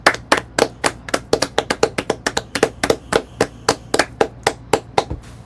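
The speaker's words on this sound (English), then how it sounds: "Let's get a round of applause." Close, crisp handclaps in a quick, fairly even rhythm, about two dozen sharp claps from what sounds like a single person or small group, with no talking.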